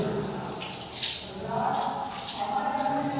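During wudu ablution, water pours and splashes continuously from a cupped hand and running tap, a steady close trickling with a few brighter splashes.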